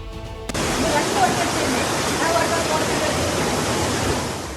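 Floodwater rushing down a sloping street in Mecca during heavy rain, a loud, unbroken roar of torrential water that starts abruptly and stays steady and close.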